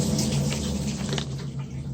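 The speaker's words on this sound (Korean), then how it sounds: "물이 잘 나오고 있죠." Water pours steadily into a washing machine drum as hot water fills it for a tub-cleaning cycle, a continuous splashing rush close by with no speech.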